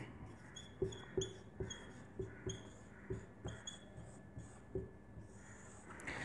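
Pen or pencil writing down notes on paper, a steady series of light scratches and taps with small pauses between strokes, close and fairly quiet.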